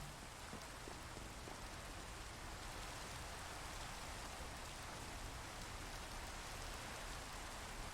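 Steady rain in Minecraft, a continuous even hiss of drops falling across the whole stretch with no pauses, no voices and no other sounds.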